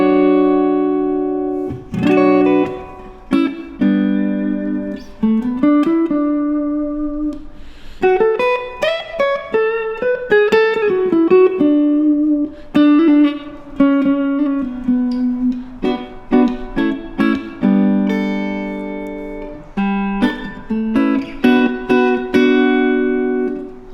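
Clean electric guitar through a Laney Lionheart Loudpedal amp plays a melodic run of single notes and chords with slides, clear and close, heard alone without speech.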